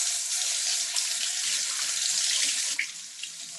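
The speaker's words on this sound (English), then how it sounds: "Let me rinse my hands." Hands rinsed under a running kitchen sink tap while making French bread, a steady close broadband splash of water that eases off near the end.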